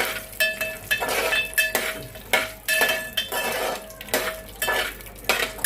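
A spoon scrapes and clinks repeatedly against a pan while something is stirred and sautéed in ghee, the metallic strokes coming in an uneven rhythm over a faint background, with no talking.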